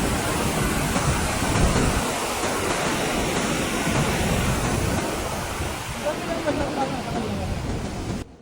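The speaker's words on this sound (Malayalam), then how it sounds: "ഞങ്ങൾ ഈ മാരക വെള്ളച്ചാട്ടം കണ്ടു" A large waterfall seen on a road trip in Canada gives off a steady, broad roar of rushing water that holds even and full, then eases slightly toward the end.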